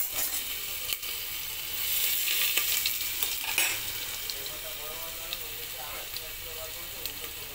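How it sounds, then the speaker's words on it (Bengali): Garlic tempering sizzles steadily in hot oil for khichuri, a continuous broad hiss with occasional spoon scrapes and a louder surge midway, close and alone without talk. "এই যে রসুনটা ফোড়ন দিয়ে দিলাম"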